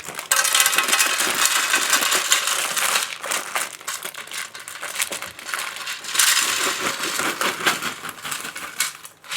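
Dry pasta pours from a whole bag into an air fryer tray, a loud, continuous rattling cascade of hard pieces hitting metal, with a brief lull midway before a second heavy surge.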